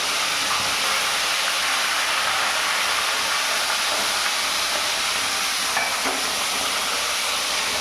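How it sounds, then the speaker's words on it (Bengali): A catla fish head fries in hot oil, giving a loud, unbroken hiss and crackle that carries evenly for about eight seconds with no talking. "তেল গরম হয়ে গেছে, মুড়ো ছেড়ে দিলাম।"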